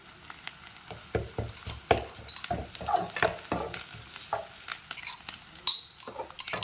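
Garlic stirred in a hot frying pan, with a steady oily sizzle broken by frequent scraping and clinking strokes of a spoon against the pan, close and fairly busy, no talking.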